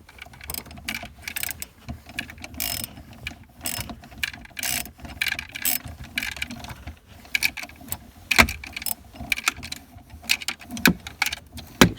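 A ratchet wrench tightens the battery terminal on a 2008 BMW, giving rapid, close clicking in repeated bursts with short pauses between strokes.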